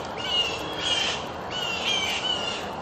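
Birds call over an abandoned outdoor field site, a few repeated high, thin cries in two bursts, fairly near, over steady background hiss with no talk.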